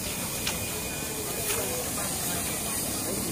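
DT668 steam locomotive releases a steady, loud broadband hiss of steam at a station, continuous and close, with a faint thin tone running beneath.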